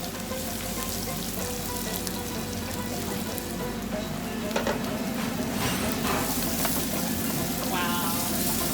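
Chopped onion and green chilies frying in hot oil for poha in a café kitchen, a dense, loud, continuous sizzle with occasional stirring clicks and scrapes, heard up close without talk.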